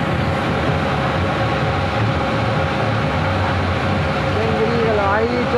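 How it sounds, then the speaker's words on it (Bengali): A train rolls past close by near Ahiritola ferry ghat in Kolkata, a steady rumbling drone with tonal whines rising near the end, while people talk over it. "আমরা ট্রেনও দেখাচ্ছি, পাশ দিয়ে ট্রেন যাচ্ছে, দেখুন।"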